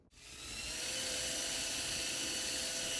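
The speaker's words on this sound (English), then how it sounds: "I do really enjoy having a surface grinder attachment for this 2x72." A surface grinder attachment on a 2x72 belt grinder grinds knife steel for a feather knife, starting abruptly and settling into a loud, steady, high-pitched whine that holds throughout.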